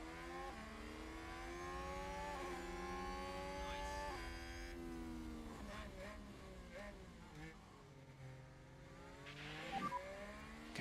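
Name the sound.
F1 race cars overtaking in F1 Manager 2022 video game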